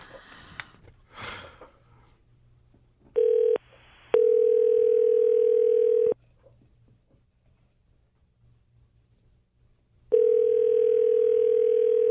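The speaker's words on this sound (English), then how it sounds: "Let me call his cell phone." A telephone dial tone sounds while calling a cell phone, a steady electronic tone coming in a short burst, a longer stretch, then again after a pause, with faint breathing and small noises between.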